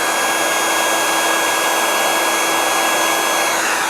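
Heat gun running on full heat while shrinking heat shrink tubing over wires, a loud steady fan-and-element whine with a constant tonal hum, unchanging throughout.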